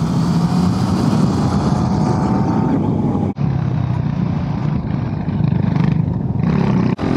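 Steady loud engine drone of a motorcycle ridden on Alpine passes near San Bernardino, Oberalp and Gotthard, with a constant roar and wind rush throughout and a couple of brief dips.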